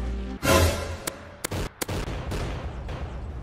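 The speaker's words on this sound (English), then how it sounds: "Look at that explosion, guys." A loud, close blast erupts after rockets are shot in a video game, followed by several sharp cracks and bangs and a fading rumble.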